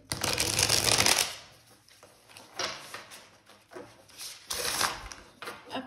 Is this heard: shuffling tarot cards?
yes